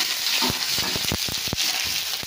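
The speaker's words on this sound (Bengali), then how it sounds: "তো আগে একটু ভেজে পেঁয়াজটা মজে আসুক" Chopped onion frying in hot oil after cumin and dried chilli for a Bengali onion masoor dal, giving a steady close sizzle with a few brief stirring clatters, no voices.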